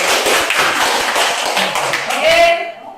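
A group claps together in a quick burst of rapid, overlapping claps, fairly loud and close, fading out at the end.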